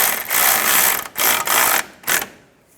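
Ratchet wrench tightening a rear control arm bushing bolt on a 2004–2010 BMW X3, with several close, rapid clicking bursts separated by short pauses, then falling quiet.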